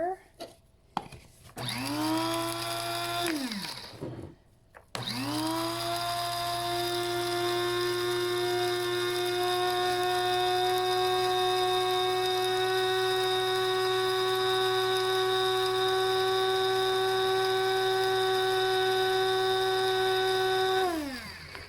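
A small electric grinder whirs as it grinds dried lavender into powder, a steady high-pitched motor whine that starts briefly, pauses, then runs continuously and loudly for a long stretch.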